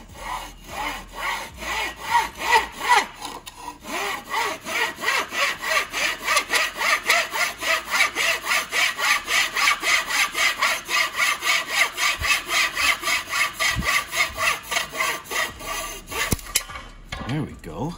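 A hand saw cuts through a piece of wood in steady back-and-forth strokes, a close rasping rhythm of roughly two strokes per second that runs for most of the stretch, with a short pause early on and then a stop near the end.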